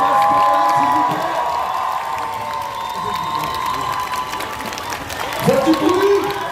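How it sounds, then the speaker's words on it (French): A fan festival crowd in Paris applauds and cheers for actor Taz Skylar after a Q&A, a dense wash of clapping and shouts with a voice speaking over it and a swell of cheering near the end. "je vous demande de faire un tonnerre d'applaudissements pour Skylar"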